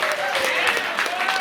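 Guests at a house anniversary party clap in a brief, dense burst of scattered hand claps from a small crowd nearby, with a voice or two mixed into the clapping.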